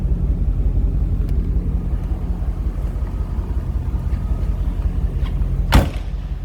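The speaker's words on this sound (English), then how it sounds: "Nice smooth running car, you can hear it. Nice little rumble out of the exhaust." A 1989 Chevrolet Corvette Convertible idles with a steady, low exhaust rumble that holds evenly throughout, with a brief sharper click or knock near the end.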